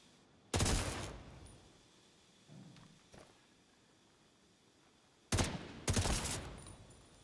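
Gunfire in The Division 2 as yellow boxes are shot to open a gate: a loud burst of shots near the start, then two more sharp bursts close together near the end, with quiet gaps between.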